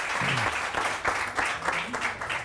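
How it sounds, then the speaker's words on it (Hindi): Studio audience applause on a Pakistani morning TV show, a dense steady clapping wash with a voice briefly over it. "बाजीला तालियां, बहुत सारी तालियां"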